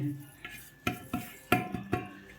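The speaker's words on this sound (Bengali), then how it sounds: "এই দেখো জিরা ধিনা লবণ হলুদটা একসঙ্গে দিয়ে দিয়েছি" Cumin, coriander, salt and turmeric fry with whole spices in a pan while a spoon scrapes and knocks against the metal, making several sharp rhythmic clanks over a light sizzle.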